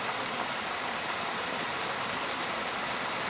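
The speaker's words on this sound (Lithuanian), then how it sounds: "Dabar esame prie šnypščiančio vandens." A stream rushes steadily nearby on a warm, breezy autumn day, a continuous broadband hiss of flowing water with no pauses and no voices.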